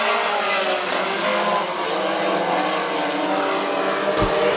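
WISSOTA Mod Four race cars roar off at the green flag at Granite City Speedway, a loud, continuous blend of engines revving together, close and dense, with a brief sharp thump near the end.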